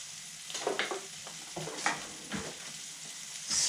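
Fish frying quietly in a pan in a Roman-style cookery session, a soft, continuous sizzle broken by a few brief scraping bursts, heard alone.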